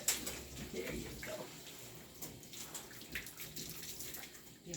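Water rinsing a puppy during a bath, a soft, faint running splash from a tap with small uneven surges as the flow moves over the dog, no clear speech.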